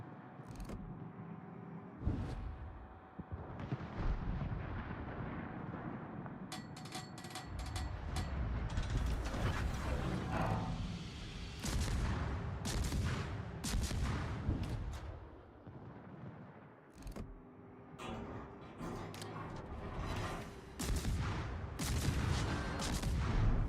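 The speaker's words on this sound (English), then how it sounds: "I keep hearing his guns going, but no shells coming out" Warship guns firing in World of Warships, repeated booming salvos mixed with mechanical turret whirs and clanks that go on at length and stay fairly loud.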